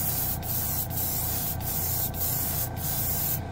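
An airbrush fitted with a fan cap sprays a heavy flow of paint in a constant close hiss, broken by brief regular gaps about every half second as the trigger is released and pressed again.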